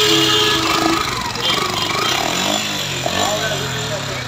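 A Suzuki Gixxer Monotone motorcycle engine with a fault runs close by, giving a steady, harsh, buzzing mechanical drone throughout.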